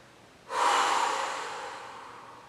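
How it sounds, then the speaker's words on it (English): A single deep breath during a Pilates session, close and clear, rising abruptly and then slowly tapering away over about two seconds, with no talking. "Take a deep breath in and out."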